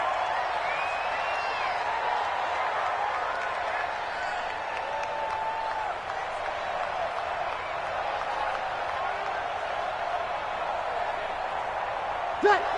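Steady roar of a stadium crowd in a PS4 American football game between punts, a broad continuous murmur with a few whoops, a commentator talking over it, and a brief knock near the end.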